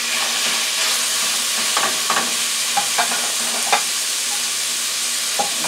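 Hamburger meat fries in oil in a pan, a loud, continuous close sizzle with scattered crackles and soft scrapes from stirring.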